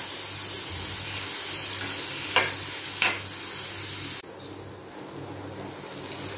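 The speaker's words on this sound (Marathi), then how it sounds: "कांदा टमॅटो छान तेलावर परतून घ्यायचा आहे।" Onion and tomato soften in oil over a low flame for stuffed capsicum, a soft, even hiss of gentle frying with a couple of light stirring clicks, quiet and steady throughout.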